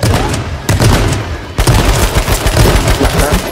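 Rapid bursts of close, loud gunfire in H1Z1 King of the Kill, several volleys fired in quick succession with a short pause after the first burst, dense and continuous.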